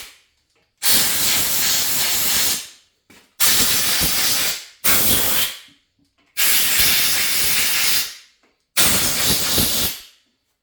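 Compressed air blasts out of bolt holes in a C5 Corvette LS6 engine block after a brake-clean spray, five loud, close hissing bursts of about one to two seconds each, separated by short silent gaps, with no talking.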